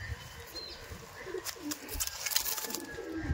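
Pigeons in a breeder's loft coo softly and repeatedly against a steady background hiss, the low murmuring calls rising a little toward the end with faint chirps mixed in.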